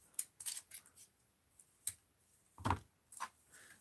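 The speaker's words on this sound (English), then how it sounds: "Let's snip off a piece of that ribbon." A few quiet, crisp scissor snips cut a piece of ribbon for an art journal, spaced irregularly with one fuller, louder cut near the end; no voices.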